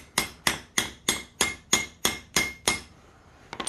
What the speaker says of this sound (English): hammer it down like that. Hammer it in.